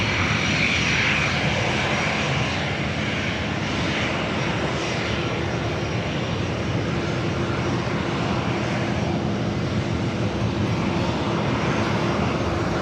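An Airbus A320 at LAX airport, its jet engines producing a steady, loud, unbroken roar with a faint high whine throughout, alone without voices.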